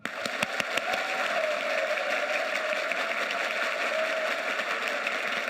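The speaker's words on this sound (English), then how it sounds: "We're going to clap like you mean it when I say go." An awards-ceremony audience, on their feet, claps enthusiastically in a dense, continuous roar of applause that holds steady after a few sharp opening claps, with no voices standing out.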